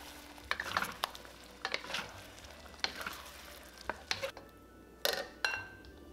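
Tomatoes and eggs stir-fry in a wok as a soft sizzle runs beneath repeated sharp scrapes and clanks of a utensil against the metal, coming in an irregular rhythm of close, distinct strikes.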